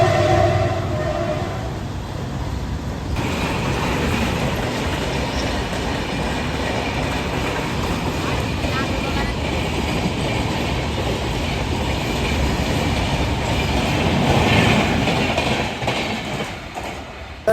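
A local train running on the Pune to Lonavala line makes a loud, continuous rumble with steady wheel clatter and rail noise that swells slightly toward the end.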